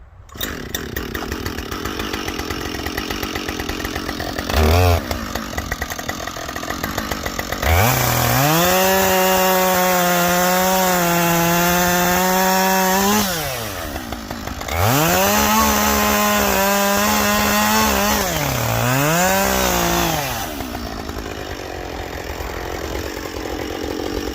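A chainsaw cuts a log in half in a snowy woodyard, idling between two long, loud bursts of revving under load, each dropping back to a rough idle.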